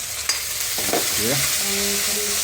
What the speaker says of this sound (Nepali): अनि हल्का गोलभेडा पनि राखिदिनु।